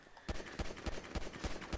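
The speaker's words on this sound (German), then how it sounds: "Ich knall euch ab." Gunfire in GTA 5 Online during a deathmatch, with a rapid series of sharp shots fired in quick succession, fairly faint and steady.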